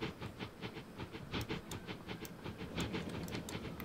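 A freight train rolls along rails in the Transport Fever 2 game, a continuous rumbling clatter with rhythmic wheel clicks and occasional brighter metallic ticks, fairly close and steady throughout.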